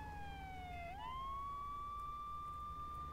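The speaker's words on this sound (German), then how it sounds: "die haben Blaulicht und Sirene und alles angemacht" A police car siren in the Arma 3 video game wails steadily, one long tone that dips and then rises to a sustained high pitch, heard loud and clear over a constant low rumble.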